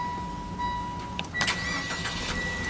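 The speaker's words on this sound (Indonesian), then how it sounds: "dan mesin pun menyala." Mitsubishi Xpander Sport with manual transmission started by its push start-stop button, giving a brief cranking burst that catches and settles into a steady engine hum, with a short tone before it.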